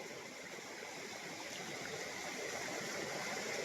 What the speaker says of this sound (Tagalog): Kasi ang maririnig mo lang po dito mga lagaslas ng tubig.